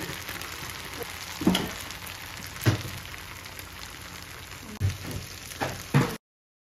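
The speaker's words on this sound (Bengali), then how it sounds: "হালকা চিকেনগুলোকে ভালো করে ভেজে নিব।" Chicken pieces frying in a pan over medium-low heat, giving a steady soft sizzle close by, with occasional clinks and stirring scrapes.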